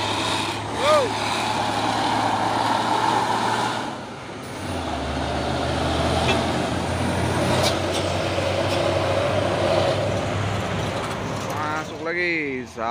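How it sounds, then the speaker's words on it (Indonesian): An orange Fuso 6x2 truck grinds up the Bukit Kodok hill climb in the morning, its steady engine drone and road rumble continuous and fairly close, with a brief horn-like tone near the end. "Lagi satu nih truk Fuso Oren pemain 6 kali 2 melewati tanjakan Bukit Kodok di pagi hari."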